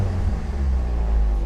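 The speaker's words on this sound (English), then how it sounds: "Okay, enough revving." A Toyota Corolla AE92 GT engine hums steadily, a loud continuous low rumble with a smooth droning tone, no talking over it.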